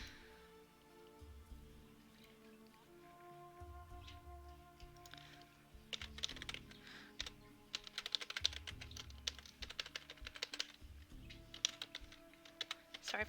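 A computer keyboard is typed on in rapid, irregular bursts of clicks, quiet at first and growing busier and louder partway through, close and alone without talk.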